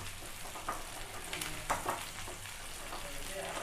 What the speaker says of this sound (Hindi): सारे चिकन के पीसेस को मैंने इस पर डाल दिया है अच्छे से और मैं इसे अब ढक करके पकाऊंगी